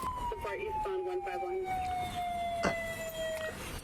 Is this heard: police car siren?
yes